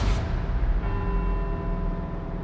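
A church bell in Edinburgh strikes in the video game Forza Horizon 4, its ringing tone sustaining and slowly fading over a low, steady background rumble.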